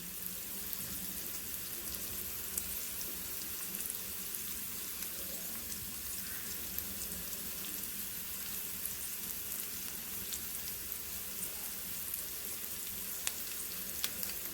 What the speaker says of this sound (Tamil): ஆயிலில் பூண்டை நச்சு போட்டு கருவேப்பிலை போட்டு அதில் அப்படியே ஸ்ப்ரெட் பண்ணி விட்டுருக்கேன் ப்ரான்ஸ் எல்லாம்